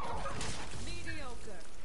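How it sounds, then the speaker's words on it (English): A dog whimpers and yips in Borderlands 3, a short wavering whine heard loud and close over busy game sound and music. "I just heard a dog whimper."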